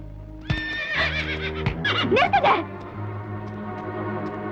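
A horse gives one loud, wavering whinny close by, with a few hoof clops and scuffs before it and a steady low hum in the background.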